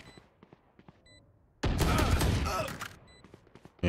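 Burst of rapid gunfire in the tactical shooter Valorant, a loud dense volley lasting about a second and a half, set between quieter in-game sounds and small clicks.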